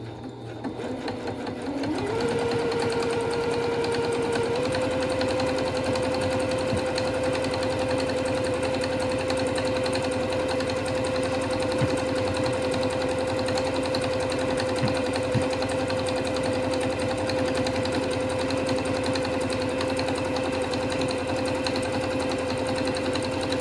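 A Singer One sewing machine starts up after a short pause and runs a steady, even zigzag stitch, its close mechanical whir holding a constant pitch to the end.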